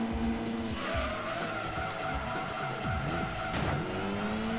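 Race car in Gran Turismo 2 skidding into a wall, steady engine drone with tire squeal and a scraping skid that swells near the end, loud and continuous.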